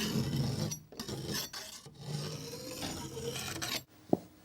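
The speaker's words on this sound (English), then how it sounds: "Rake out the gap with an old filling knife." An old filling knife scrapes and rasps as it rakes debris out of the gap between a wall and its coving or skirting, a close, continuous gritty scraping with brief pauses, then a sharp knock near the end.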